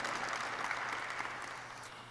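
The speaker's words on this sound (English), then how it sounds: "Yeah, that's worth clapping for." Audience applause at a university celebration-of-life gathering, a steady dense wash of clapping from many hands that holds evenly for a couple of seconds before easing slightly toward the end.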